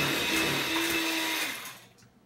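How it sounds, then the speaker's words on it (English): An electric mixer beating 3/4 cup of butter until smooth, a steady close motor whir with a high whine that runs for over a second, then winds down and fades out. "you're going to beat together 3/4 cup of butter. And you want to mix this until it's smooth."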